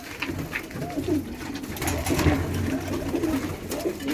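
Tumbler pigeons cooing in a coop, soft repeated throaty coos close by, overlapping steadily throughout with no talking.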